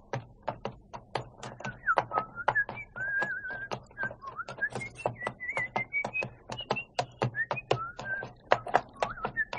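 A person whistles a wandering tune while walking, the thin melodic whistle heard under a steady series of sharp, evenly spaced footstep taps, close and fairly quiet.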